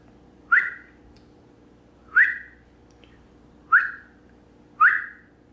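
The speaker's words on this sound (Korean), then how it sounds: "이렇게 돼서 제가 직접 녹음한 제 휘파람 소리입니다." Four short rising whistles from a person's self-recorded whistling played back, evenly spaced about every 1.5 seconds and clear over a quiet background.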